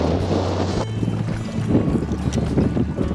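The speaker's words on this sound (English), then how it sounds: "I don't know what this audio is going to be like. This wind is blowing" Strong south wind buffeting the microphone on a fishing boat near a lake bank, loud gusty rumbling with lapping water and engine hum underneath.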